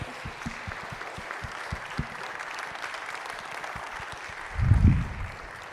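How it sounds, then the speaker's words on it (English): An audience in a church sanctuary applauds at a pastor's talk: a steady patter of clapping throughout, with scattered louder claps and a fuller swell near the end. "And this may be one more round of applause."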